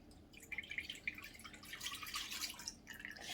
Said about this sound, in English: And then I'll just pour into the candle.